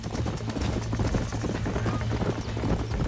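Horse hooves clip-clopping in the video game Red Dead Redemption 2, a steady busy rhythm of several hoofbeats over a low rumbling game soundscape, fairly loud and continuous.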